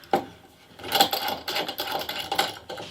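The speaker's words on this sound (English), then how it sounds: "I'm going to clamp that into place on the end here" Wooden rubbing and clunking as a 45-degree-cut wood block is clamped onto the end of a guitar body during glue-up, several close scraping and knocking sounds in uneven bursts.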